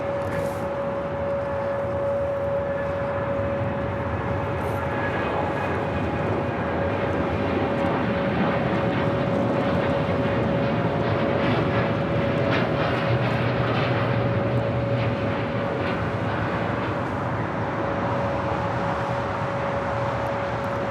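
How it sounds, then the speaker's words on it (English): A United Airlines Boeing 787-9 Dreamliner takes off at LAX for Washington Dulles, a steady, fairly loud engine roar with a constant tonal whine running through the whole stretch. "This is United Airlines 1603 taking off to Washington Dulles on a 787-9 Dreamliner."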